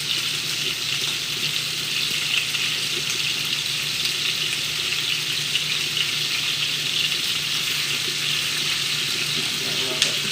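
Lamb chops sear in hot oil in a pan with a loud, continuous sizzle that holds evenly throughout, ending in a faint clink.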